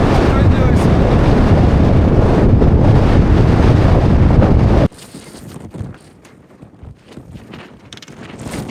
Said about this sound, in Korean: 바람이 진짜 세게 붑니다